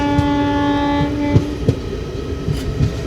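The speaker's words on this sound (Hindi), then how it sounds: "देख सकते हो हमारी ट्रेन ने फिर से रफ्तार पकड़ना चालू कर दिया है।" A Vistadome train on the Ranchi to Girdih line picking up speed, with a sustained horn tone fading out and rhythmic wheel clacks over a loud rolling rumble, no voices.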